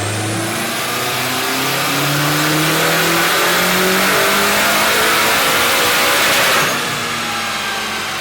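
A Mitsubishi Lancer Evolution X engine revs hard and steadily on a dyno, a loud sustained roar climbing in pitch before easing off near the end.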